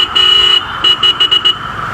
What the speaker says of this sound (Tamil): வண்டி ஹாரன் வந்து கேளுங்க, நல்லாயிருக்கு.